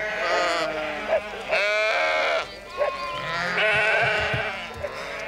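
A flock of sheep bleating in repeated, overlapping calls, loud and close, several voices rising one after another over a low background rumble across about five seconds.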